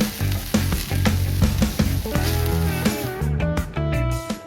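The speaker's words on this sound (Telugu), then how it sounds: "ఇదంతా బాగా 2 నిమిషాలు ఫ్రై చేసుకోవాలి" Beetroot with chili powder fries in a pan, a loud, close, continuous sizzle broken by stirring scrapes and clinks, no talking.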